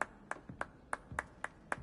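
A Hogwarts Legacy character claps in an even rhythm, seven crisp, fairly close claps in under two seconds with no talking over them.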